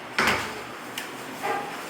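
A door being opened in a small coffee shop, heard as a brief scraping slide followed by a faint click and a softer rub, moderately close and quiet with no talk.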